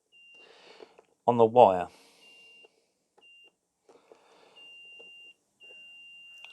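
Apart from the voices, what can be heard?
multimeter continuity test beep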